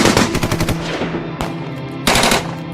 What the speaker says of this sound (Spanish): los sonidos de disparos empiezan a resonar en la plaza